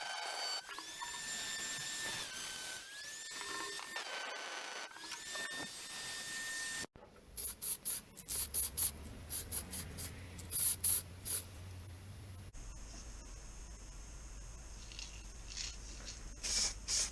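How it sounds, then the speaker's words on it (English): Etch primer sprayed from a can onto the bodywork of a 1988 Classic Mini, heard as short bursts of hiss, some longer and some clipped, close by in a quiet garage. "got the old etch primer back on there"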